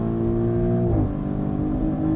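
A Maserati GranTurismo Trofeo with 542 horsepower, in Corsa mode, its engine note holding steady then dropping sharply as the transmission downshifts, a loud close rumble heard from inside the cabin.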